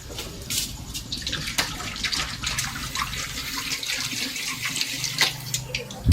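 Water pours steadily into a cooking pot for a tom yum with crisp-fried silver barb fish, a continuous close splashing stream like a running tap that lasts throughout, with no talking.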